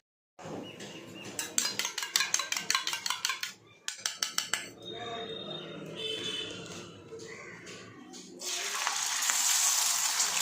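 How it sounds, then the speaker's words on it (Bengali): Egg toast cooking in a pan: a run of rapid metallic clinks and scrapes of utensils against the pan, then softer clatter, ending in a bright steady sizzle of frying. "ডিম টোস্ট, ডিম টোস্ট করে সবগুলো বানিয়ে নিই।"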